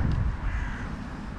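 Crows caw loudly and close by in an open field where crows and pigeons gather for food. The harsh calls stand alone with no talking.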